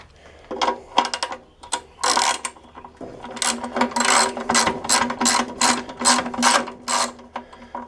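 A ratchet wrench loosening the carburetor bolts on an old 1966 Briggs & Stratton engine, bursts of rapid close clicking repeated in short strokes with pauses between, no talking.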